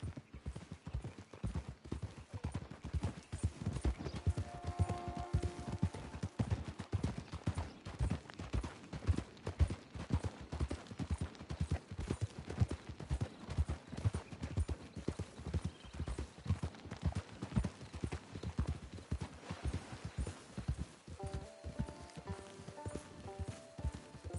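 Horse hooves clip-clop in rapid, regular beats in Red Dead Online, a steady trotting rhythm throughout with faint musical tones now and then in the background, no talking.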